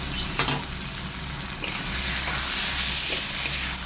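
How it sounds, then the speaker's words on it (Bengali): Fried onions sizzle in a pan as garlic paste and ginger paste go in, making a steady close hiss with a few soft clinks of a spoon and no talking. "পেঁয়াজটা ভালো করে ভাজা ভাজা হয়ে গেছে, এর মধ্যে দিয়ে দেবো রসুন বাটা আর দিয়ে দিচ্ছি আদা বাটা।"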